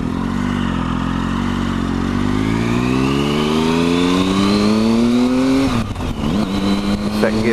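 Triumph Tiger 1050 motorcycle engine revving steadily upward through the gear, then a brief dip near the end as the gear shifts and the engine picks up again, loud and close throughout on a winter road ride.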